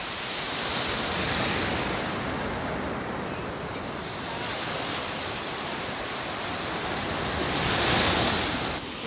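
Ocean waves wash steadily onto a beach on a cloudy day, a broad continuous roar that swells and recedes, with a louder surge near the end and wind rumbling across the microphone.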